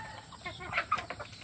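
Chickens being hand-fed from a palm, clucking softly in a few short, close bursts over a quiet farmyard background, with no talk.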